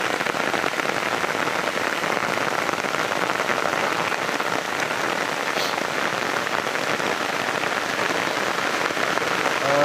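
Steady rain falls continuously, a dense even patter with no break and no voices.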